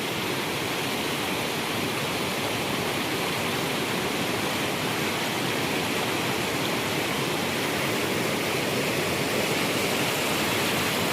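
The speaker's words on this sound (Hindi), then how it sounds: "ये पानी ऊपर से आता है।" Mountain water rushes down a high mountain slope in a loud, steady, continuous roar like a waterfall or fast stream, close by and unbroken, with no talking.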